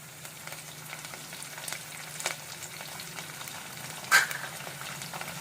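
Curry leaves hit hot oil with mustard seeds during tempering for ridge gourd dal, setting off a steady low crackle with scattered pops and one louder burst partway through.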